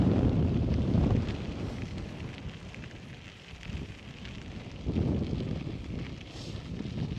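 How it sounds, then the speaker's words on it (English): Strong wind buffets the microphone with steady broadband roar, surging loudest at the start and again after a lull, on a bike ride through Badlands National Park. "Pretty windy."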